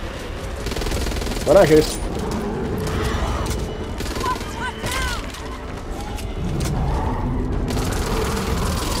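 Gunfire aimed at a boss in Back 4 Blood, a continuous mix of rapid shots and mechanical clatter running under brief spoken remarks.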